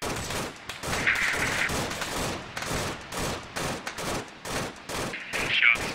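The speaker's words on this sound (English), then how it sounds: "Jumbo, they've got IFRIT HMGs down there" Heavy machine gun fire from IFRIT vehicles in Arma 3 rattles in continuous rapid bursts, loud and fairly close, with steady overlapping shots throughout.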